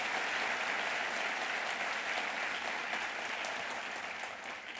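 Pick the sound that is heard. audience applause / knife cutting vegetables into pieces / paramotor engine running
audience applause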